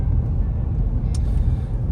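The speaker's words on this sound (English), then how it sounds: "The engine pulls hard and strong." A full-size family SUV's engine hums in a steady, low, continuous rumble from inside the cabin while driving, with no voices.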